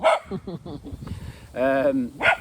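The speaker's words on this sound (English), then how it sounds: "it's barking at another dog." A dog barks at another dog in a short burst of yips and a drawn-out whining bark, heard up close while a person talks over it.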